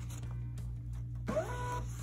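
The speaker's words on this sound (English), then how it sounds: "I'm going to get the first spirit stencil paper and load it into the printer" A printer takes in a sheet of spirit stencil paper for a tattoo stencil, giving a short mechanical whir and feed sound after a low steady hum with small clicks.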